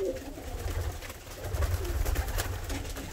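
Many ornamental pigeons cooing inside a crowded coop in Karacabey, Bursa, a steady layered chorus of low throaty coos close by, with broadband rustling and no talk.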